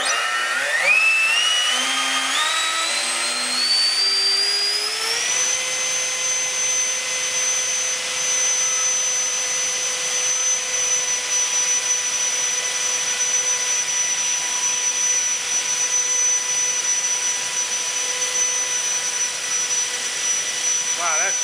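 A 12-bladed 900kv electric motor on a 12S battery spinning up during a thrust test, its whine rising sharply over the first five seconds, then holding a loud, steady high-pitched roar with airy rushing noise throughout.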